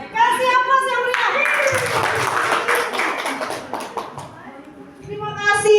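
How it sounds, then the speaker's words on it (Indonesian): An indoor audience in a workshop room claps after a presentation, a dense round of applause lasting several seconds between stretches of a speaking voice. "Kasih aplaus yang meriah."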